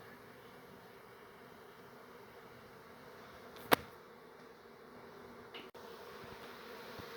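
Honeybees hum softly and continuously in a hive inside a bedroom being relocated, with a sharp click partway through and a faint knock later.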